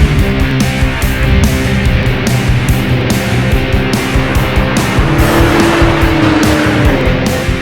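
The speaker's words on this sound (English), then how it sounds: "This time we're going to brake a little harder." A car driven hard around a track, with a loud continuous engine roar, a rising pitch as it brakes and downshifts, and a faint tire squeal partway through.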